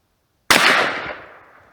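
A single sharp, loud gunshot fired outdoors in the cold at a Swiss M1971 steel army helmet, with a sudden crack that fades over about a second.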